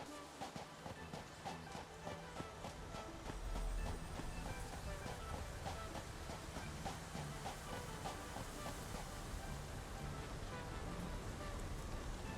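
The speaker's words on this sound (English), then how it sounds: "I want to ride the train back." A train in the video game Satisfactory rolls along its rails with a steady rhythmic clatter and mechanical hum, continuous and moderately loud throughout.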